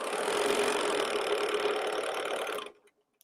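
A sewing machine stitching a curved seam on leggings, running in one steady, close whirring burst before stopping abruptly.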